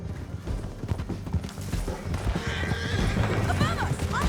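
Horses whinny and clip-clop at a gallop through a canyon ride in Red Dead Redemption 2, with hooves drumming steadily under loud game noise and character voices talking over them.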